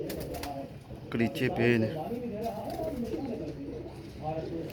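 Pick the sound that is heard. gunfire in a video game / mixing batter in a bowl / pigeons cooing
pigeons cooing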